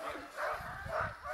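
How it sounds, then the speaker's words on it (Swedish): Alaskan Husky sled dogs bark and yip in a couple of bursts outdoors in the cold Nordic north, set against steady wind-like noise with voices mixed in. "Hunden vi brukar till detta här uppe i Norden, det är Alaskan Husky"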